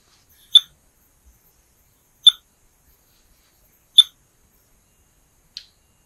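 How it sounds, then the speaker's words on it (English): Evenly spaced electronic pings from a VHF shark tag transmitter picked up on a tracking receiver: four short sharp beeps roughly 1.7 seconds apart, the last one fainter, with silence in between. "we're gonna rely upon this receiver right here to pick up the beep or the ping that's coming from the tag"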